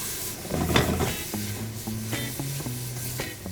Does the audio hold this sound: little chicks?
no